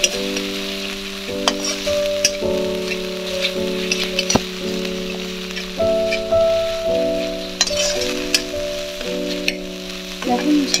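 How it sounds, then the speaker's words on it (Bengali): Spice paste sizzles and crackles in a pan as it is stir-fried with a little water for mixed vegetable labra, a dense continuous fry noise with a steady tonal hum underneath. "জলটা দিয়ে মশলাটা আবার ভালো করে কষিয়ে নেব।"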